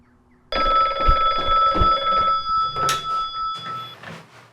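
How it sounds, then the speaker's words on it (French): A telephone bell rings in a series of rapid, metallic trills that start abruptly and keep repeating close by, then fade slightly near the end. "Un jour, ma mère me téléphone."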